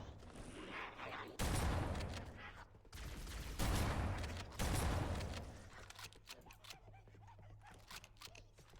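Shotgun blasts in the video game Halo CE, several heavy bursts fired in an irregular sequence, followed by clattering mechanical reload and shell sounds amid game effects.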